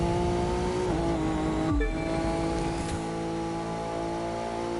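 A 350C Roadster street race car in The Crew 2 racing game, its engine droning steadily at high revs, with a sharp gear change and a brief dip before the engine settles back into a sustained howl.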